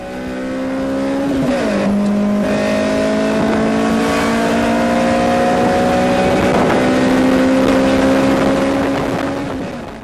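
A Toyota 2ZZ-GE 1.8-litre four-cylinder engine revs high toward about 8,200 rpm, its loud, steady, raspy howl dipping briefly and then climbing again across the whole stretch, with no voices.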